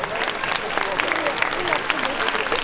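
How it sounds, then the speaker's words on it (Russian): Applause for the dance couples at a Pro-Am ballroom competition in Minsk, a steady wash of clapping from the audience filling the hall, continuous and fairly loud. "Спасибо парам, аплодисменты."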